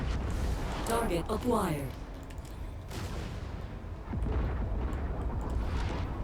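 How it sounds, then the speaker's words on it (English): Rumbling missile blasts and weapon fire roll through a MechWarrior 5 battle near an enemy base with tanks, loud and dense with layered booms, while a synthetic cockpit voice announces a target. "Incoming missile."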